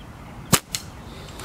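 A single sharp crack as a slingshot shot strikes an aluminum mount, followed by a fainter second tick a moment later, against quiet background.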